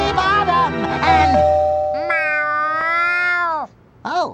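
A cartoon cat meows in the SpongeBob SquarePants: Lights, Camera, Pants! video game, with several loud, drawn-out, wavering meows close up and a short final meow.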